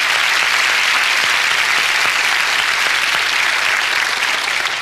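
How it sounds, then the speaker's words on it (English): A large audience at a motivational speaking event breaks into a loud, sustained round of applause, dense clapping that holds steady for the whole stretch with no talking over it. "Why don't you give Lenore a round of applause,"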